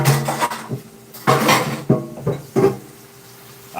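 Pad thai being stirred in a pot with a stir stick, giving several separate scraping, knocking clatters of utensil against metal, close and fairly loud, with quiet gaps between strokes.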